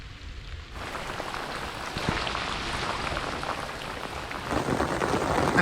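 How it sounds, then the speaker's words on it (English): Heavy storm rain pours down at a public lake in midsummer as a dense, continuous hiss that builds slightly louder toward the end, with no voices. "Well, I say major, we've got a storm hitting."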